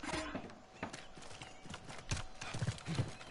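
Horse hooves clip-clop steadily in a video game, a quiet run of rhythmic hoofbeats mixed with faint game sounds and low background noise.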